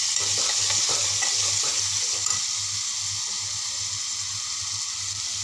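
Close, loud stirring of spices into egg bhurji masala frying in a pan, the spoon scraping over a continuous bright sizzle, with a low hum pulsing steadily underneath and no talking.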